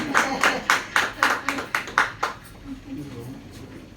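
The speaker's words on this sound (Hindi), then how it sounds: "हाँ जोरदार ताली" Audience applause at a gathering in Gosai Ki Bazar, Lalganj, Azamgarh: a run of about ten loud, rhythmic claps that fade into murmuring crowd noise, with voices underneath.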